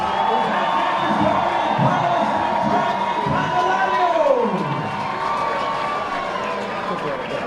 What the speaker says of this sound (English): have a nice round of applause for these 2 New England players